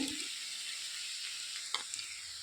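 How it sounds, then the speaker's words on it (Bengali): Masala frying in a pan with a soft, steady sizzle, punctuated by a couple of faint stirring scrapes near the end, quiet and with no voices. "এক মিনিট মতো একটু নেড়ে ফেড়ে ভেজে নিয়েছি"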